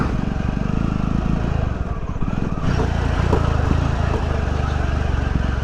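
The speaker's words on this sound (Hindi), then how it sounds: "ऐसे स्लोप में हमेशा इंजन ब्रेकिंग ही" A motorcycle engine-brakes down a steep, broken, rain-damaged slope in Uttarakhand, giving a loud, continuous, low, pulsing rumble with a slight rise in pitch partway through.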